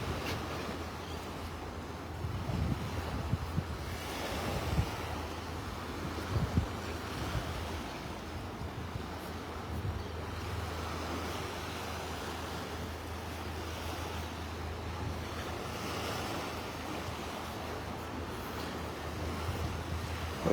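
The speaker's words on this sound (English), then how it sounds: "Comes the wind." Wind blows across the microphone at a beach in North Naples, Florida, a fairly faint, rumbling buffet that swells and eases over the distant wash of surf.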